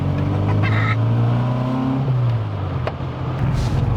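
A 50-year-old car, just repaired, revs its engine in a strong rising and falling tone that dips and settles, heard loud and close with no talking.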